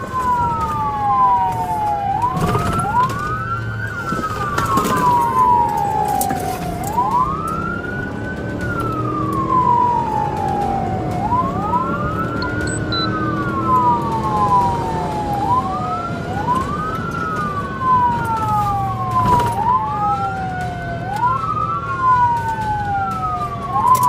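A police car siren wails in repeated rising and falling sweeps, loud and close, over a steady vehicle rumble during a chase through a residential area after a silver Mercedes-Benz SUV.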